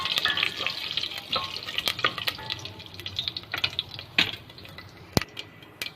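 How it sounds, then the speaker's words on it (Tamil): Mustard seeds, urad dal, cumin, fenugreek and dried red chillies splutter in hot sesame oil, sending out sharp irregular pops and crackles over a faint sizzle, with a few louder bursts near the end. "கடுகு நல்லா பொரிஞ்சிருச்சு"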